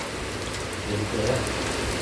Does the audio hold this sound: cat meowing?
no